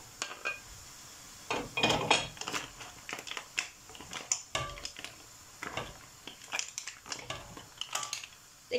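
Sautéed squid and shrimp go back into a metal cooking pan, making scattered clinks and scraping knocks of a utensil against the pan, close and fairly quiet, with no talking.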